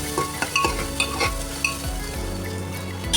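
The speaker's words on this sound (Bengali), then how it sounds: "এটা একটু নাড়িয়ে চাড়িয়ে নিচ্ছি।" Grated ginger and spices sizzle in a hot pan while a utensil stirs them, scraping in a few distinct strokes over a continuous frying hiss.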